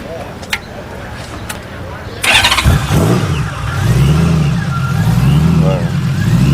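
A supercharged, fuel-injected flat-six Honda Valkyrie motorcycle engine cranks and fires up, then settles into a loud, close, lumpy idle with wavering revs, after a few clicks, as people talk nearby.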